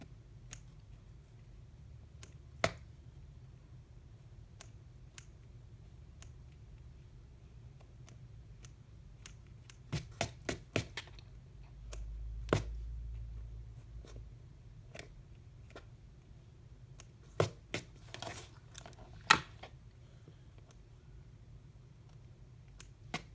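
Appliqué scissors snip fabric held in an embroidery hoop while a coaster is finished, giving a few sparse, sharp, close clicks spread across a quiet background.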